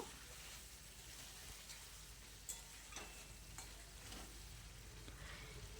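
Paneer and pointed gourd curry, sweetened with a little sugar, sizzles in a pan while a spoon stirs through it, giving a soft steady frying hiss broken by occasional scraping strokes.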